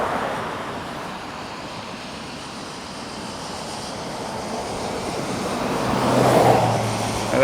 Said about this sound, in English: I got some traffic up here